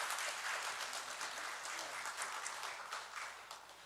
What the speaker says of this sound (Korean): 우리 박수해 주시면 감사하겠습니다.